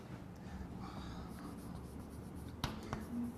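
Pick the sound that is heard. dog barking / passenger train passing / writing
writing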